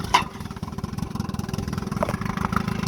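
A 1958 Johnson 10hp outboard motor catches on the pull and settles into a fast, even putter, the loud rhythmic engine pulses running steadily up close with no talk over it.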